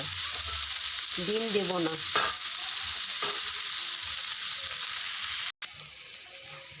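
Cabbage frying in a hot pan, a dense, steady sizzle close by, with someone briefly speaking over it near the start.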